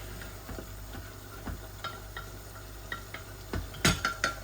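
Meat frying in a black pot while a spoon stirs it, with a soft steady sizzle under scraping and tapping strokes that grow louder and quicker near the end.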